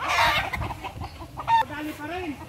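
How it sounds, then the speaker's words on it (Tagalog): Farm chickens in the yard behind a house, birds in moult, clucking in short bursts with a few higher calls, fairly close, mixed with faint voices and background noise. "Ayan na lang yung mga manok dito na Abatchoy"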